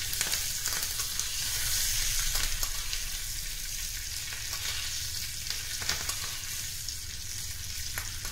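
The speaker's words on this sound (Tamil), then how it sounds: "கருவேப்பிலை போட்டு ஒரு கலந்து விட்டு ஆஃப் பண்ணிடலாம்" Curry leaves crackling and sizzling in hot oil in a small tempering ladle, a steady loud frying hiss with scattered pops, heard alone throughout.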